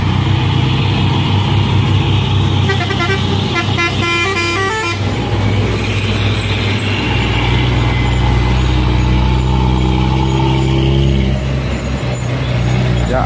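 A Mercedes trailer truck labours loudly uphill at Bukit Kodok while overtaking, its deep engine drone running throughout, with a burst of horn honking and other heavy traffic close by.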